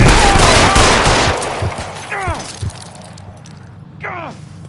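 Gunfire in the 1940s crime game L.A. Noire during a shootout: a loud opening barrage fading into scattered shots with ringing ricochet-like whines, heard close and sharp.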